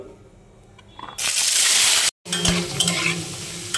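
Potatoes drop into hot oil already seasoned with cumin in a kadai, setting off a loud sudden hiss after a quiet start, then a brief cut and continued steady sizzling with a few clinks.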